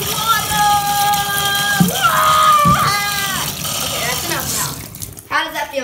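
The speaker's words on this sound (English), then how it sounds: "the tub is filling up too much" Bathtub filling from a tap, water running and splashing steadily beneath children's excited voices and squeals that dominate the clip.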